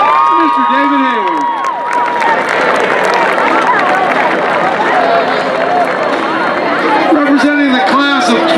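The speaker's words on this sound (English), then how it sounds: "One more round of applause for those freshman reps, Ms. Lawton Crows and Mr. David Hayward." Crowd at a homecoming celebration applauding and cheering for the freshman class representatives, a dense sustained roar of clapping and voices with talk and shouts mixed in throughout.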